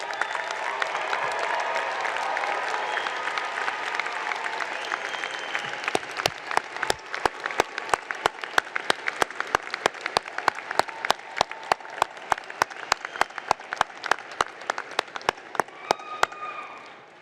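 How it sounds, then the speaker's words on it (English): Large audience applauding at a university graduate commencement, a dense crowd patter at first, then joined by loud, sharp, regular claps close by that keep time like a steady beat until the end. "So please stand and give them a round of applause and thank them."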